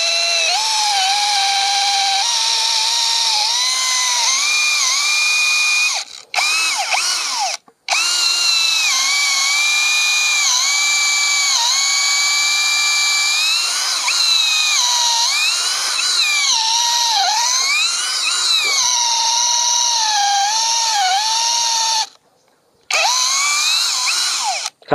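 An IMAX IMCD-20BL cordless drill bores a large bit into hard wood, a loud steady whine that labors and shifts pitch under load, with brief stops as the bit is pulled back to clear chips.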